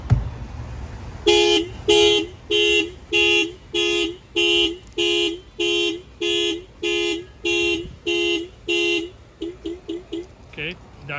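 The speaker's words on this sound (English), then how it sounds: "now the alarm is off" Aftermarket alarm installed on a 2024 Honda Civic sounds loudly in a steady series of about a dozen evenly spaced electronic tone bursts, ending with several quicker, shorter chirps before falling silent.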